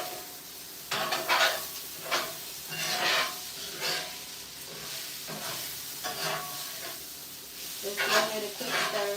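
Meat browning in a hot pan for tacos, a steady sizzle broken by repeated scrapes and stirring clatters, close and moderately loud with no talking.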